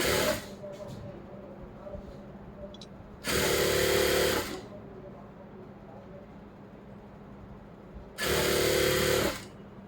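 An electric sewing machine stitches a folded lining piece for a blouse in two loud, even bursts of whirring, each lasting about a second, with quiet pauses between them.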